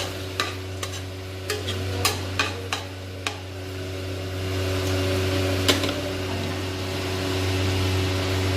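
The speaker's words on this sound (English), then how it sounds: "And now I'm gonna properly just give it a stir." Spices such as cinnamon sticks and nutmeg stirred in a pot for mutton chaap, with a handful of sharp scrapes and knocks early on over a steady hum, then a softer continuous sizzle and rustle.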